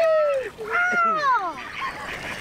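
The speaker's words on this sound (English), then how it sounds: "You guys gotta feed the ducks, OC." Ducks at an outdoor skatepark honk and quack in a few loud, drawn-out calls close by, with people talking nearby.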